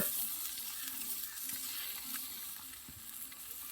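Snakehead fish tandoori cooks over low heat, hissing with a steady, quiet sizzle and faint crackles, with no voices.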